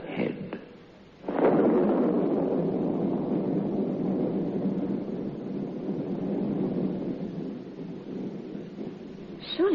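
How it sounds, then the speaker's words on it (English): A storm blows in as a dying gale, a low rushing roar that swells after a brief lull and holds, rolling like distant thunder or heavy gusts. "That's just the old storm having a last blow."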